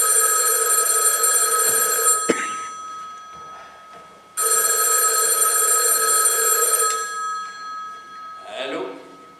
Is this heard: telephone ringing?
yes